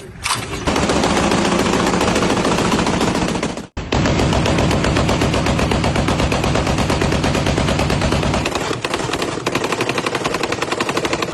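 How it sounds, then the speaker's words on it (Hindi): Heavy automatic gunfire from fighting in Aleppo, Syria roars loud and nearly continuous as dense rapid bursts, cut by one brief gap partway through, with no voices audible. "सीरिया में फिर भीषण बारूदी संग्राम शुरू हो गया है।"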